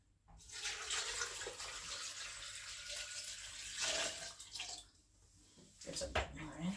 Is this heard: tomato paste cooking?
no